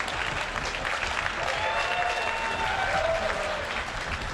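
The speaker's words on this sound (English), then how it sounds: "I get applause for playing bad." Audience at a QuakeCon 2019 Doom Eternal gameplay demo bursting into sustained applause and cheering, a dense crowd clapping over live game sounds, with a voice faintly audible beneath it.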